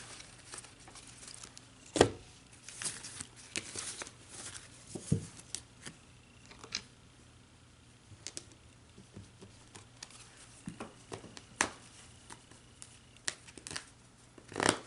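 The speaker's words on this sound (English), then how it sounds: "we'll pull some energy cards" Tarot-style energy cards being shuffled close up, with soft irregular riffling and tapping clicks scattered throughout at low volume, no talking.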